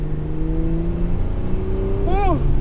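A 2018 Porsche Panamera 4 E-Hybrid's engine droning steadily from inside on a test drive, with a brief rising-and-falling whine near the end, sitting under a continuous road rumble.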